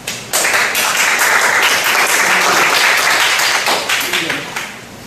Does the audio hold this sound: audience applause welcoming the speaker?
yes